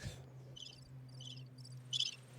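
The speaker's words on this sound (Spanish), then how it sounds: "Ponerle los grillos." Crickets chirping in short repeated bursts, four distinct trills spaced about half a second apart, fairly faint over a steady low hum.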